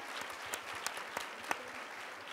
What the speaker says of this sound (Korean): 위원분들에게 큰 박수를 해주시는 것으로 오늘 포럼을 마치도록 하겠습니다